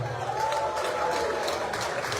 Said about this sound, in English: Please give them a big hand clap.